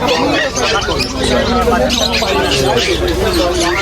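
Pigeons coo and birds chirp amid a busy crowd at a pet market in Serampore, with constant nearby chatter and market hubbub filling the scene.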